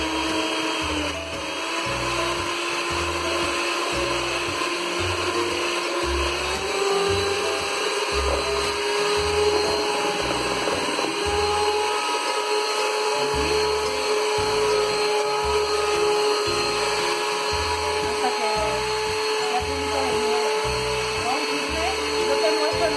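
Electric mixer beating chocolate genoise cake batter, a steady high whine running continuously with a rhythmic low pulsing as the beaters turn, fairly loud and near, with a brief pause midway.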